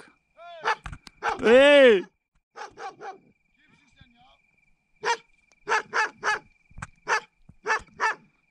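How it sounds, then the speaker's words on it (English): A dog barks in a series of sharp, loud yaps with a brief howl-like whine, heard outdoors at night along a bikepacking route; someone shouts and talks between the barks. "There's a dog."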